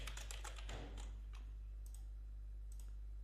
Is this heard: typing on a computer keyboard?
yes